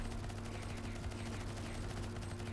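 Rapid suppressing gunfire in a multiplayer shooter, a dense continuous burst of automatic shots at fairly low volume, steady and unbroken for a couple of seconds.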